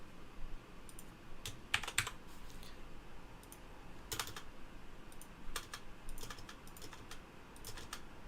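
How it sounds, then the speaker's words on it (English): Typing on a computer keyboard during a programming lecture, with irregular bursts of crisp key clicks and brief pauses between them, close and moderately quiet, with no talking. "if I was typing this in from scratch, as opposed to editing it now, this would be much easier"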